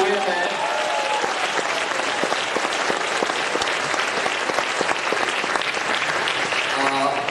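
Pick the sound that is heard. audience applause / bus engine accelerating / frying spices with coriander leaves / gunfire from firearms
audience applause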